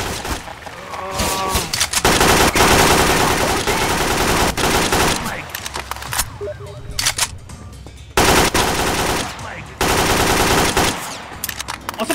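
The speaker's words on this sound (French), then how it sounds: "Des hommes armés, monsieur, ça tire" Armed men unleash heavy gunfire in Garry's Mod DarkRP, with loud, dense automatic bursts and overlapping shots almost continuous throughout, pausing briefly in places before resuming.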